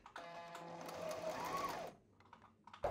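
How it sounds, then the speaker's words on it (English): A Brother GS2700 sewing machine runs for free motion embroidery, a close, fast, steady whirring stitch that lasts under two seconds, then stops with a brief clunk near the end. "Just go back and forth to make the line thicker. The more thicker the line you want, more times you would need to sew on it."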